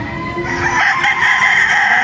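LDT Gray gamecock rooster crowing loudly and close, a single sustained cock-a-doodle-doo filling the whole stretch with no talk over it.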